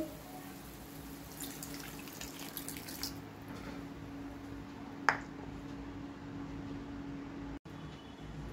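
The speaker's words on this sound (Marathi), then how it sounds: "आता याच्यात ॲड करते 1 कप पाणी" One cup of water runs steadily into a pan of curry masala for several seconds, then trails off, with a brief clatter midway and a low hum throughout.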